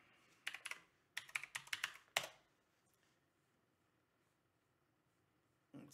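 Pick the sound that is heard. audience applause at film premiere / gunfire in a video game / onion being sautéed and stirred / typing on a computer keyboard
typing on a computer keyboard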